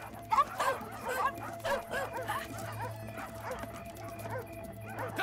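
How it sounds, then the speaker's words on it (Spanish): Several dogs bark, yip and whimper in an excited jumble of short, close calls repeating throughout, with a steady low hum underneath and a voice faintly in the mix. "¡Cállense, perros!"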